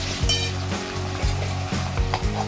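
Ginger garlic paste sizzles loudly in a hot pan while being stirred, with a steady frying hiss and a few scraping stirs, alone and close up.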